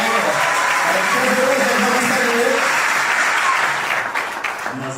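Civil wedding guests applauding and cheering for the bride, loud close clapping with voices calling out and chatter mixed in, easing off over the last second.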